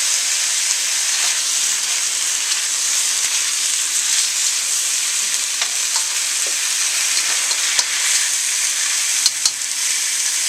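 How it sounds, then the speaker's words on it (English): Rice noodles and fresh bean sprouts stir-fry in a hot pan for dim sum chow fun, giving a loud, continuous sizzle with scattered crackles and small scraping knocks throughout. "So I just throw in some fresh bean sprouts and just let that stir fry together."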